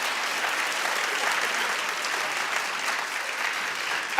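Studio audience at a daytime talk show clapping loudly and steadily, a dense unbroken wash of applause throughout.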